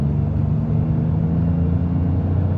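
Ford Maverick Lobo 2.0L turbocharged EcoBoost engine accelerating, a steady, loud low-pitched rumble and drone heard from inside the cabin, holding evenly throughout without speech.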